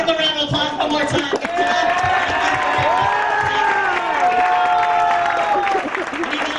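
Audience applause and cheering in a cruise ship lounge, a dense steady wash of clapping with whoops and a few voices shouting over it, loud and sustained throughout.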